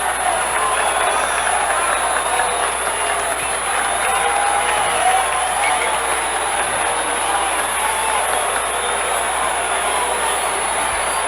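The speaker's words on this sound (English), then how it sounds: "Listen to this crowd." Baseball stadium crowd at the 1974 Yankees versus Mets Mayor's Trophy game, a continuous distant roar and cheering that stays loud and even throughout, with a voice speaking over it.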